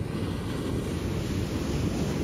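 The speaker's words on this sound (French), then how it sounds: "Il y a quelques vagues." Ocean surf on a Santa Cruz beach, a continuous wash of breaking waves with some wind buffeting on the microphone and no voices.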